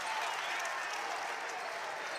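A college basketball arena crowd in Greenville cheers and applauds at a close Appalachian State versus Furman game, a dense, steady roar of clapping and shouting that fills the whole stretch.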